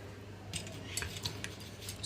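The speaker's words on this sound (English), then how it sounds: "So I'm just going to mix till the butter gets melted in the milk" A utensil gently clinking against a bowl while butter is mixed into warm milk, faint scattered taps and scrapes over a low steady hum.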